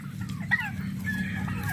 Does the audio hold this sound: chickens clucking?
yes